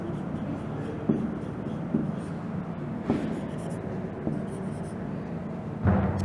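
A teacher writes class notes, likely chalk on a board, with soft scratching and periodic taps and knocks over a steady room hum, with quiet talk nearby.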